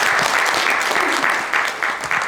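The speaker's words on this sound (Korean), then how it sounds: "큰 박수" An audience at a lecture event claps steadily to welcome a speaker to the stage. The dense applause is fairly loud and continuous and eases slightly toward the end.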